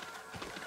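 Horse at the stables in the Ghost of Tsushima video game, with soft hoof clops and a brief whinny near the end, quiet and close against faint background ambience.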